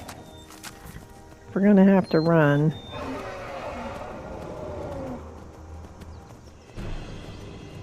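A horse gallops in the Skyrim video game, its hooves beating a steady clip-clop rhythm beneath a man's speech.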